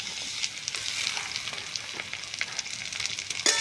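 Potato, eggplant and onion fry in a pan with a steady crackling sizzle. Light stirring ticks come through it, with a sharper clatter at the end. No voices.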